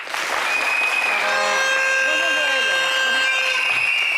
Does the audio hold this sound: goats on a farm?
no